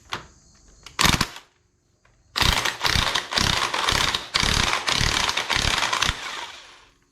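Socket wrench working on the sprocket nut of a 2022 KLR 650 motorcycle, a quick ratcheting burst followed by a run of seven or eight loud rhythmic ratchet strokes, close and without talk.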